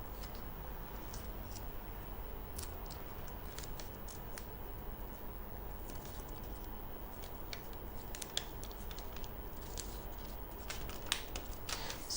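Scissors cutting out a basic bodice paper pattern, close by: steady soft crisp snips and paper rustle over a faint continuous background hiss, with no talking.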